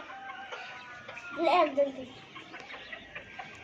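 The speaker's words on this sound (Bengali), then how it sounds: "কালো মুরগিটা আমি ছেড়ে দিয়েছিলাম" A hen clucks in a short burst near the middle, loud and close, over a background of low household noise and faint voices.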